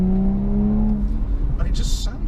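An Audi S4 engine accelerates hard on an open road, its rising drone building loudly from inside the car before easing off, with faint chatter toward the end.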